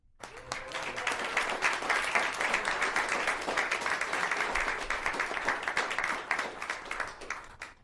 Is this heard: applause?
yes